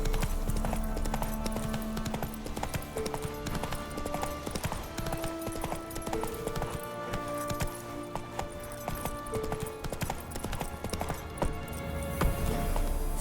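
A horse gallops in The Witcher 3 game with a steady, rapid clip-clop of hooves, fairly quiet and mixed under sustained orchestral game music.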